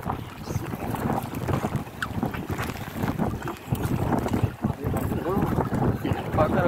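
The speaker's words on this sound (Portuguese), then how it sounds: "Muito vento, galera. Vento aqui, maresia tá fazendo o que quer com a canoa." Strong wind buffets the microphone over the sea beside a fishing canoe out netting yellow hake, a constant roaring rush with gusts, with voices talking underneath.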